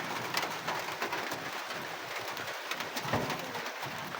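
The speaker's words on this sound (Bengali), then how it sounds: "সব গোলা কবুতর এখানে বসে রয়েছে" Pigeons perched in a loft coo softly during heavy rain, their low murmuring calls sitting over a constant patter of rainfall.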